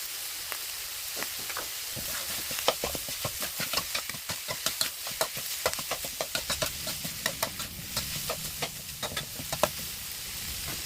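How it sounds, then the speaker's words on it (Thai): Pork stir-frying in a pan for Thai pad kaprao seasoned with fish sauce: a steady close sizzle broken by frequent sharp scrapes and clacks of the spatula, irregular but continuous throughout. "ผมเอาหมูไปสุกกันครับ"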